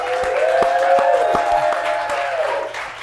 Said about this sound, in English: Y'all make some noise for yourselves for being in the audience